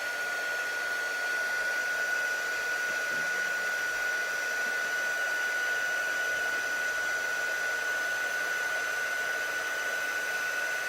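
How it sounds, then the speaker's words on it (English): A heat gun blows continuously to melt and set embossing powder in a craft technique, giving a steady, close, even whir with a fixed tonal whine throughout and no talk. "we're just gonna heat set that like we normally would with an embossing powder"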